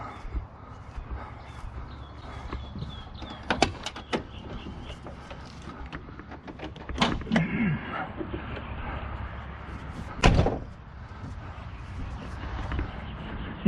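Door and hood of a 1994 Ford F-150 pickup opening outdoors, with a few sharp clicks and thumps of latches and a louder clunk near the end over steady background noise.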